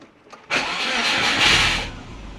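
A Subaru engine with a custom four-inch turbo intake cranks and catches, then runs loudly and close for over a second before dying away.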